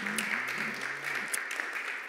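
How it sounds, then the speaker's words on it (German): Conference audience applauding after a session on historic gardens, a brief steady patter of clapping with a voice speaking over the start. "Ich würde das mal als Applaus werten."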